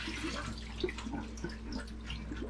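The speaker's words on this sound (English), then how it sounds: "I'm going to pour the water out of my rice noodles." Water poured off soaked rice noodles in a home kitchen, a steady soft splashing and trickling stream heard close up and fairly quiet, with no talking.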